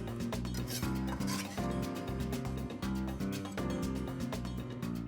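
A lemon being zested for baked mac and cheese, a steady scraping rasp repeated in quick strokes close up, continuous with no talking.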